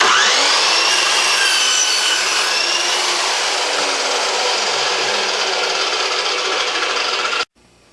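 A Milwaukee 14-inch dry cut saw slices through metal at a quicker feed, a loud, steady, high-pitched grinding whine that holds evenly for several seconds and then cuts off abruptly as the blade finishes.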